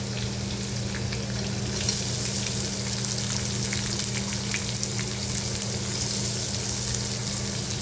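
Chopped onion sautéing in hot oil in a pan while cooking gawar bhaji, a steady close sizzle and crackle with occasional stirring scrapes, continuous and even with no talking.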